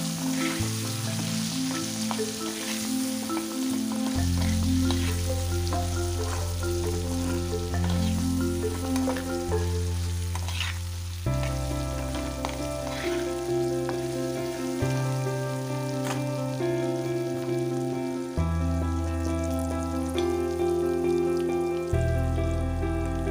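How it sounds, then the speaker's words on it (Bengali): Potatoes with salt and turmeric fry in a pan, a steady sizzle with occasional stirring, laid under continuous background music and no speech. "দিয়ে দিলাম লবণ পরিমাণ মতো, আর এখানে দেব হলুদ গুঁড়ো, দিয়ে একটু ভালো করে নেড়েচেড়ে নেব"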